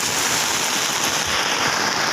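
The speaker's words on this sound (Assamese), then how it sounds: "ইমান ডাঙৰ বৰষুণ মানে" Heavy rain pours down around a home, a loud unbroken roar of drops hitting surfaces close by, dense and steady with no pause.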